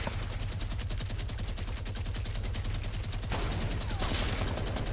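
Rapid automatic gunfire in Fortnite Battle Royale, a fast steady burst of shots running the whole time, loud and close, with a heavier volley near the end.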